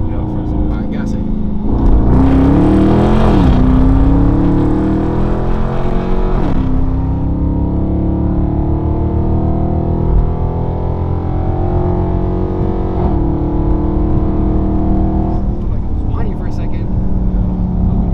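Dodge R/T with a newly installed intake and catch can, its engine revved hard in first gear for a sustained roar that rises then settles into a steady drone, with people talking over it.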